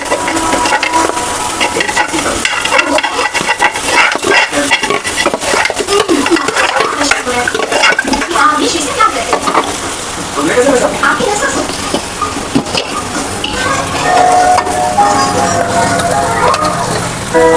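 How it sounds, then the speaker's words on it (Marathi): Potatoes tumble into a pan of mashed, cooked tomatoes and are stirred with a utensil, giving steady scraping and clinking over a soft sizzle while someone talks throughout. "चला आलू टाकून घेऊया आपण याच्यात"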